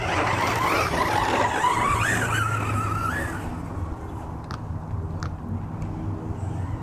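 A Hobao Hyper10 SC 2.0 RC short course truck drives hard outdoors, its motor whining and tires skidding and squealing loudly for several seconds before the sound drops to a quieter rumble with a couple of sharp clicks.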